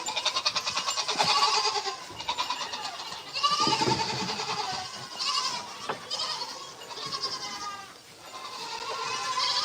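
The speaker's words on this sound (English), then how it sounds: "There's some bigger goats out here." Several goats bleat repeatedly nearby, overlapping wavering calls with brief pauses, against a low outdoor background.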